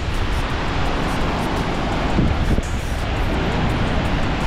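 Heavy river water rushing under a bridge near Purwa Falls, a loud continuous broadband roar with wind buffeting the microphone.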